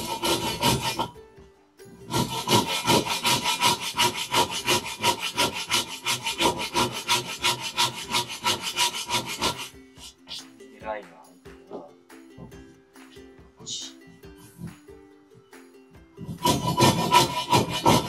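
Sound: Ryoba saw cutting wood for a dovetail joint

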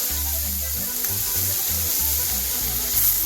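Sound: mustard seeds, cumin and asafoetida sizzling in hot oil

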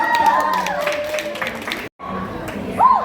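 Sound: audience applause for the dancers

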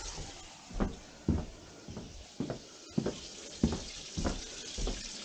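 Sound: water draining from sink

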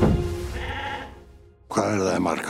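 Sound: sheep bleating

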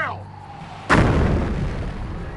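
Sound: mortar artillery fire in Company of Heroes Mobile video game

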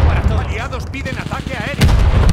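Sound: glide bomb explosion in Call of Duty: Vanguard video game

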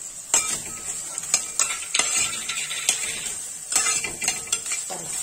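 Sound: stirring coconut into okra stir fry in pan

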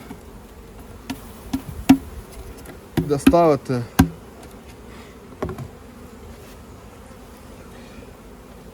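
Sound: Buckfast honeybees buzzing

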